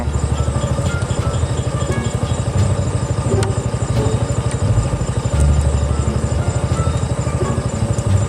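Motorcycle engine idling steadily with a low, even pulsing throb, close and fairly loud, just before riding off on a bike fitted with 40W four-LED fog spotlights.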